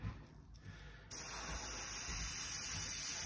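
A spray can lays primer onto a small model musket in one steady hiss that starts abruptly after a quiet moment and holds on, close and even.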